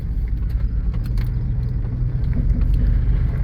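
Hummer truck engine while driving, a low continuous rumble with road noise close inside the cab, steady and fairly loud with small clicks over it.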